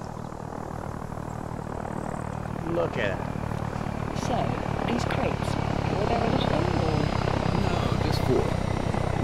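Helicopter engine drone in ARMA 3, a steady broadband rotor roar rising slightly and holding throughout, with someone talking over it.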